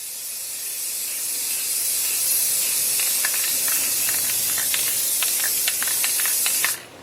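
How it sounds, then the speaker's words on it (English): A spray bottle hisses steadily as liquid mists lightly onto a scroll-sawn wooden sign, and quick clicks of the nozzle come through over the continuous spray before it stops abruptly near the end. "We won't spray this as much. We'll do this very lightly."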